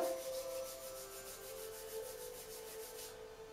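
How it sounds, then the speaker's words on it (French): Hands rubbing and massaging skin along the stomach meridian during an acupuncture massage, a steady close, soft rhythmic swishing friction that keeps going for several seconds, with a faint tonal hum underneath and no talking. "On va le remasser une deuxième fois."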